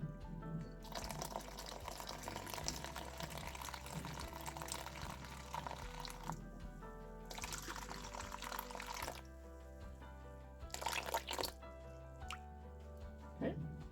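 Water is poured for sourdough bread dough in several quiet splashing bursts, separated by short pauses, heard faintly and close by with no talking.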